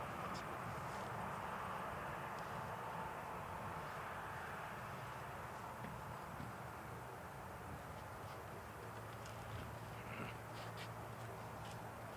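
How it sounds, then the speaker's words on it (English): An Emirates Airbus A380 taxis toward the apron, a steady broadband jet engine roar holding at a constant level across the whole stretch, with no clear rise or fall. "the Emirates is making that right turn now to make its way to the apron"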